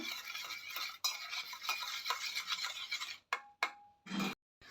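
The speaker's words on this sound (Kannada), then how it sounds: "ಸೊ ದೆನ್ ಅದಾದಮೇಲೆ ಕ್ಲೀನಾಗಿ ಮಿಕ್ಸ್ ಮಾಡಿ" A baking soda and liquid cleaning mixture is stirred in a container, giving a steady, close scraping and swishing that breaks into a few short, separate strokes near the end, with no talking.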